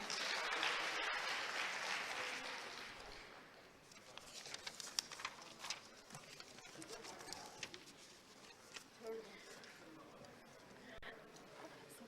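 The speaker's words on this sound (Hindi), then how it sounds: "जोरदार तालियां" Faint applause rises from the audience at a Madhya Pradesh government event as women from Rajgarh district receive a dairy business cheque. It thins after a few seconds into scattered pattering and light background noise.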